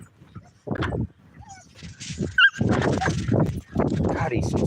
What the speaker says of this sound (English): Pants, stop barking.